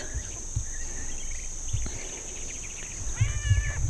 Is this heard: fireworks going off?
no